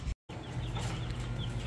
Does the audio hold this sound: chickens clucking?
yes